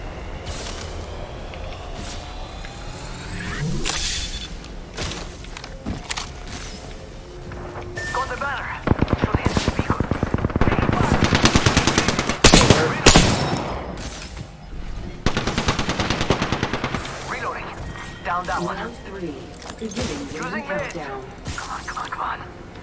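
Video game gunfire during a live stream: bursts of rapid automatic shots and single cracks, loud and close, scattered across the clip with player talk over them.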